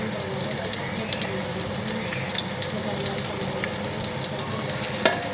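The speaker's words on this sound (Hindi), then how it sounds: "प्याज को लाइट ब्राउन कर लेंगे।" A finely chopped medium onion fries in hot oil for beef pasanda, giving a steady, dense sizzle with no voices, broken by one sharp click near the end.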